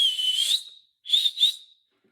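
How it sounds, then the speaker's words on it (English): A loud, shrill whistle made without fingers in the mouth: one long sustained note, a pause, then two quick shorter blasts, clear and close with nothing else around. "The whistle itself looks like this."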